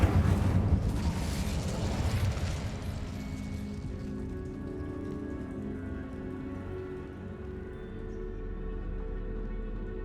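Incendio fire spell cast in Hogwarts Legacy: a sudden burst of rushing, crackling flame that gradually dies down into a low, hissing crackle lasting several seconds, with no speech.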